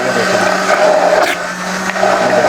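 A blender motor runs steadily while whipping up eggless mayonnaise, giving a loud, continuous whir with no pauses or other sounds on top.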